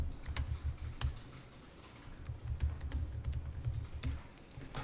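Fingers type an item name on a computer keyboard in accounting software, with quick, close key clicks in uneven bursts and short pauses between them. Nobody speaks.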